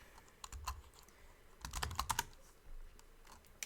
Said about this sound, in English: why am I typing it there? I need to type it here.